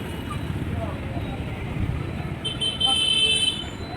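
Busy road traffic on a street in Barrackpore, with steady engine rumble and a brief car horn toot sounding near the end.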